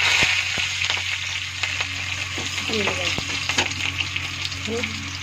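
Dried and green chilies, a bay leaf and curry leaves sizzling in hot oil, a loud close crackle with sharp spits and pops scattered through it.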